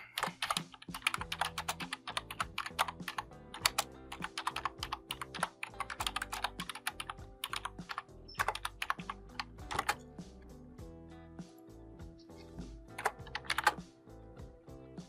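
Typing on a computer keyboard, a dense, uneven patter of close key clicks that runs without a break and has occasional louder strokes, with no voices.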